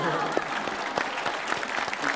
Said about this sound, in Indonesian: ya boleh tepuk tangan yang mau tepuk tangan